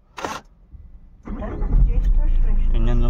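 A Jeep Compass with a check engine light and loss of pickup starts up and settles into a steady idle, a short click first, then the engine catching and running close by.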